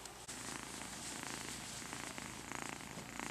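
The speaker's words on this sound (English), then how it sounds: "Little purrs." Soft, continuous purring from kittens, close and steady with a gentle rhythmic rumble, no voices.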